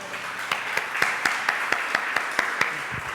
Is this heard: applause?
yes